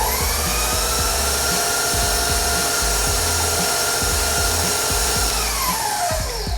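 A stand mixer paddle creams butter and sugar with a loud, continuous motor whir and rhythmic knocking from the paddle striking the bowl, steady and close throughout.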